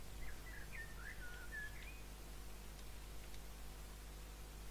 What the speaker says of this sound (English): Okay, the birds are still here.